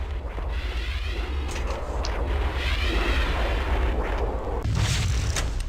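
Rocket explosions in Halo: Combat Evolved on Legendary difficulty, a loud, continuous rumble of booming blasts with a sharper burst near the end, under dense in-game battle noise.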